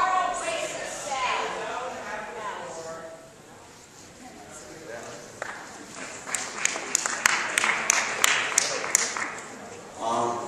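Audience applause at a public debate on Israel, with a voice speaking at first before scattered, crisp claps build up in the hall over the last few seconds.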